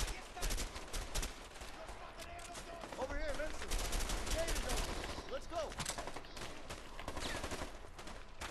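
Gunfire in the video game A Way Out, a dense steady stream of rapid shots and bursts at moderate level, with brief vocal sounds mixed in.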